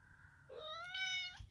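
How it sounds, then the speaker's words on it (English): A single cat's meow, clear and fairly close, rising then holding a bright drawn-out tone for about a second before cutting off, over a faint quiet background. "Oh, that's a cat."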